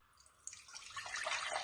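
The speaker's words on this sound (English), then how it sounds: "I am pouring my cherry juice from that big container there, and I'm gonna just pour it right in here." Homemade organic cherry juice being poured from a large container through a strainer, starting with a few light drips, then swelling into a bright, splashing stream that grows louder toward the end.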